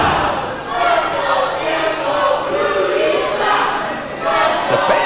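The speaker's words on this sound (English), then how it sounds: "You have the dueling Let's Go Tempo, Rudy Sucks chants." A wrestling crowd at the World Gym Arena in Texas City, Texas, chants in dueling rhythmic waves for Tempo and against Rudy, loud and continuous with swelling voices filling the arena.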